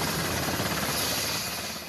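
A helicopter carrying wounded Israeli soldiers to hospital thunders close overhead, its dense rotor chop filling the short burst before easing slightly at the end.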